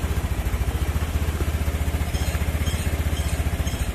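A freshly started motorcycle engine idles close by with a steady, rapid thumping pulse and a clattery mechanical edge, running alone without talk.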